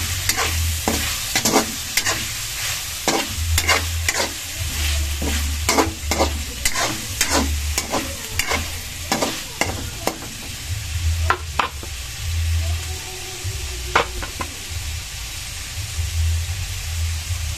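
Chicken liver and gizzard adobo is stirred in a sizzling pan, a spoon scraping and clacking in a quick irregular rhythm over continuous close frying hiss.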